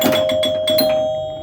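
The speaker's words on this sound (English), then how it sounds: "Obviously the chimes are super loud because I've got the glass off and the coin door open." Chimes on a Joker Poker pinball machine ring loud and close because the glass is off and the coin door is open, with a quick run of bright strikes that trail off into ringing.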